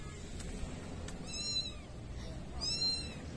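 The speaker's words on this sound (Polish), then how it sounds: "Coś miauczy." Cat meowing outdoors at a campsite, somewhere hidden in bushes: two clear meows about a second apart, moderately close over a low steady background hum, with no talking.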